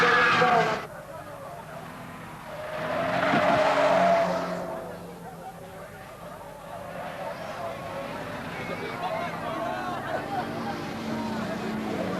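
Race car skidding and spinning across the track at Paddock Bend during the 1981 Dubai Grand Prix, a burst of tyre and engine noise rising and fading under a commentator's voice.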